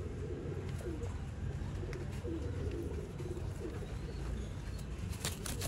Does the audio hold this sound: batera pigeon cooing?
yes